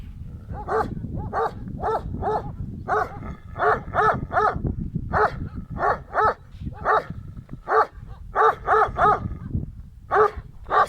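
A dog barks repeatedly and loudly at other dogs, sharp barks coming in irregular clusters over a low rumbling background, no voices.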